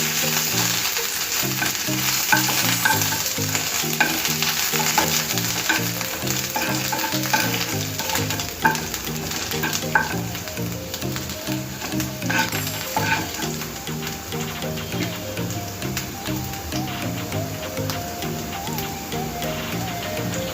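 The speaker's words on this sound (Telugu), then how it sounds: "అల్లము, వేసి ఫ్రై చేసుకున్నాం." Ginger and green chillies fry in a pan for an aloo patty filling, a steady bright sizzle with occasional crackles running throughout beneath a soft musical backing.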